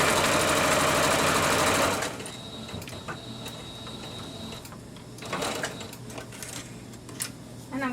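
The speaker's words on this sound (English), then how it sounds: "you're going to sew down with a straight line. Make sure you back stitch to secure the stitch" A sewing machine runs steadily through a straight seam on a baby-sized costume, loud and close for about two seconds before dropping to quieter intermittent mechanical clicks and handling noise.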